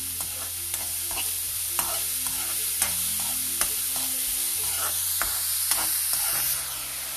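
Sliced onions sizzle steadily in hot oil in a pan, not yet browned, with a spatula scraping and stirring at a regular rhythm, clicking taps repeating over the continuous close frying hiss.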